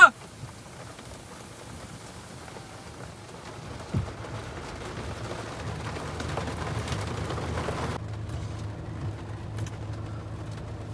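Steady rain falls over farm fields in Punjab as a soft, even wash of noise with a low rumble underneath. It grows slightly heavier midway, with a single dull thump.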